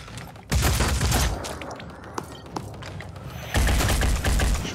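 Loud bursts of gunfire in the tactical video game Phoenix Point, two dense volleys of rapid shots with a quieter stretch between holding a few isolated cracks.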